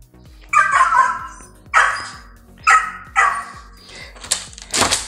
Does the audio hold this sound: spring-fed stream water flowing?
no